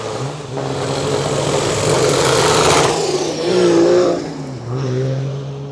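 Modified 1000 hp BMW engine revving loudly through its exhaust, rising and falling in several close, aggressive bursts with no voices.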